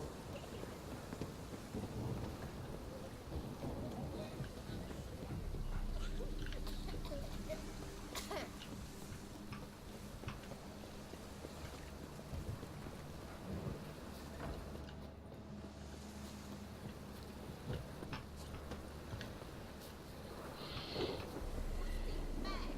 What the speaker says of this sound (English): Running around in this rain.